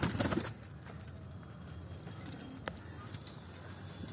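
Pigeons coo softly and steadily close by after a loud burst at the start, with occasional faint chirps in the background.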